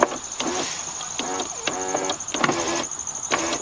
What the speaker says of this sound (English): See how it comes down? So it's coming down, the motor, but it won't come up.